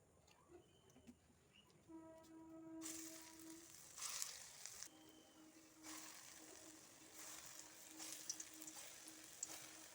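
Lentil fritters (musur dal bora) fry in hot oil in a pan, giving a soft, steady sizzle with brief louder bursts as they bubble, quiet and close with no talking.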